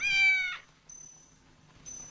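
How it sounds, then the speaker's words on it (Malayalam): A small kitten with a bell on its collar gives one clear, high meow up close, followed by a faint, thin tonal squeak, in an otherwise quiet indoor room. "എവിടെ നോക്കൂ, ഇറ്റ്സ് എ കിറ്റൻ"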